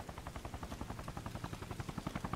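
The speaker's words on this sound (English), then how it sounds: "I hear a chopper. It's going to come in to save us." A helicopter's rotor thumps in a fast, steady rhythm from the Arma Reforger shooter game, moderately distant and holding level without talk over it.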